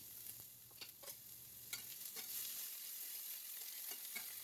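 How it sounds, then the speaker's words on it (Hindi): Mustard seeds and onions frying in hot oil, a steady close sizzle with scattered crackles and pops, no voices. "और जैसे ही राई तड़कने लगे उसके बाद मैं डाल दूँगी प्याज और हरी मिर्ची"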